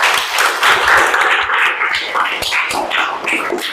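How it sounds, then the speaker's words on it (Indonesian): Pupils in a classroom clap their hands together in a brief, scattered round of applause, loud and close, with some voices mixed in. "Ya, bagus sekali, tepuk tangan."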